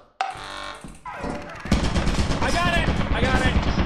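Turret gunfire in Lethal Company: a sharp burst kicks in early, then a louder, dense run of rapid shots from about the middle onward, with a voice talking over it.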